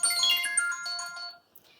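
A phone ringtone from a scam call plays a bright, chiming melodic phrase that fades out after about a second, followed by faint handling sounds.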